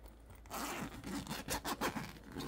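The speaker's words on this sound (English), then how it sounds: "I'll kind of like unzip this" A duffel bag zipper is pulled open in one close, crisp rasp lasting about two seconds, with a few quick jerky pulls toward the end and no talking.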